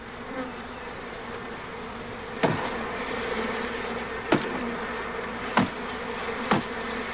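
A swarm of migrating honeybees gives off a dense, continuous buzz close by, broken now and then by a few sharp knocks.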